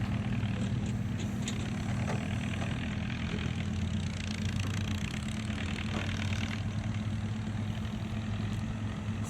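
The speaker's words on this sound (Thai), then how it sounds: "เสียงนี้รถไถฟอร์ดแน่นอนเลย" A Ford farm tractor's diesel engine drones steadily at a distance, a low continuous rumble with faint clatter and no talking.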